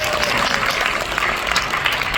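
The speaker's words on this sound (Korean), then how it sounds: "감사의 박수를 보내주시기 바랍니다" An audience at a founding rally claps in a dense, sustained burst of applause that is fairly loud and fills the room, with no speech over it.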